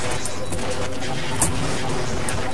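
Rapid gunfire in the Half-Life video game comes in dense, harsh bursts, loud and constant across the short stretch amid chaotic in-game noise.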